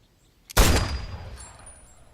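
A single loud gunshot from a handgun in a film, sharp and close, with a long decaying echo tail and a faint high ringing afterward.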